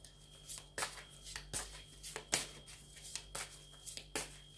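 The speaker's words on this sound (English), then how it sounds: "Now I'm going to shuffle the cards that I've got here" Tarot cards being shuffled by hand: a series of soft, papery riffles and slaps at an uneven rhythm, close and quiet.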